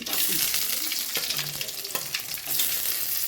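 Onion and garlic frying in oil with mustard seeds and cumin, a steady close sizzle broken by stirring scrapes, with no voices.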